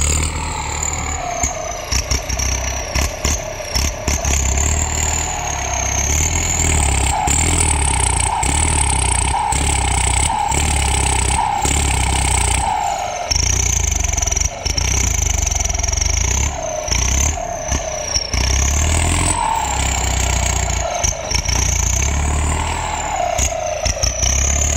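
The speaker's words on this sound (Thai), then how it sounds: "โอ่งซิ่งเทอร์โบแต่งครับ" A modified turbocharged Ford pickup engine revs loud and close for the whole stretch, its roar rising and falling in repeated bursts without a break.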